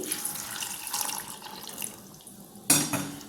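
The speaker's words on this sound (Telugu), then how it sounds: "మీరు ముఖ్యంగా వీటిని ఒలిచిపెట్టుకున్నాక శుభ్రం చేసుకోవాలి" Peeled broad beans are rinsed under a running kitchen tap, a steady hiss of splashing water with rattling, then a sudden louder gush and clatter near the end.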